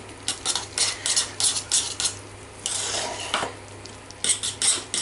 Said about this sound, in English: And just whisk it.